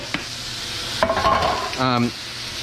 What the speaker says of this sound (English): Okay, almost done here.